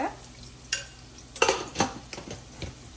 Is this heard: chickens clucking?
no